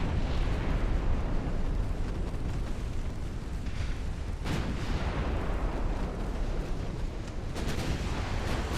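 A torpedo strikes a warship in Ultimate Admiral Dreadnoughts, producing a continuous heavy explosive roar with repeated sharper bursts breaking through the loud, rumbling din.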